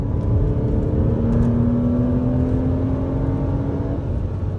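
A Porsche Boxster braking hard, its engine note sinking gradually beneath a loud, constant roar of road and tire noise.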